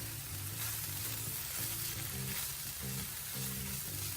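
Mushrooms and onions frying in a pan, with a steady sizzle and a low tonal hum running underneath throughout.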